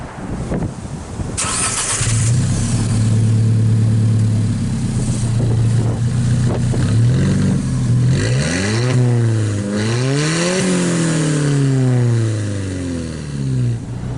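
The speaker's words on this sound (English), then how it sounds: "But first, how about an exhaust clip?" An Alfa Romeo 4C engine starts with a sharp bark, idles with a deep burble, then revs up and down several times through its loud exhaust, close by.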